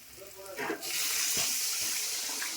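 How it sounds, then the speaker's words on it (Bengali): Hot water pours steadily into a simmering hilsa fish curry in a home kitchen, a continuous close splashing hiss that keeps going to the end. "গরম জল এখন দিয়ে দিবে মা"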